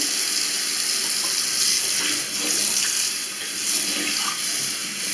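Water poured from a tap into a sink being flushed after a hydrochloric acid drain unclogging, a steady rushing, splashing flow running continuously and loud throughout, with no talk.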